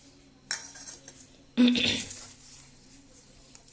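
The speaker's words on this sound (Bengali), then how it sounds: "কাঁটা চামচ নিয়ে এসছে, ডিজাইন করবে।" Metal fork picked up from among utensils while making a design on thekua dough, giving a faint clink followed by a louder clattering jangle, with quiet room noise afterward.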